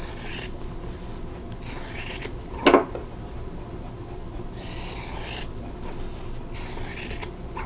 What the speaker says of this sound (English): let's cut those apart. And I'm going to cut on the drawn line.